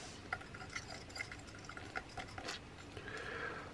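Faint stirring of liquid used for rusting an old glass bottle: soft, irregular clinks and sloshing taps, close but quiet, with low background noise.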